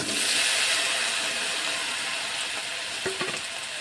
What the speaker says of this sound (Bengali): এখন আমি আলু আর সিম কড়াইয়ে দিয়ে দেবো।